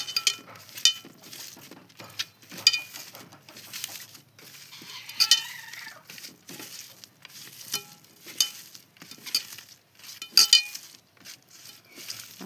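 Cooked greens are hand-mashed with salt and chilli for Bengali shak bhorta, making soft, irregular squelching pressing sounds with scattered light clinks of a dish, close and fairly quiet, with no talk.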